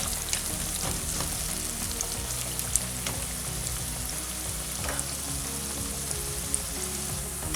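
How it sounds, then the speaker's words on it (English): Onions sautéing in a pan over medium heat for an Indian moong dal, giving a steady close sizzle with occasional stirring clinks and no talk. "We're just going to saute them on medium heat, so just keep an eye on that and just give it a stir as well."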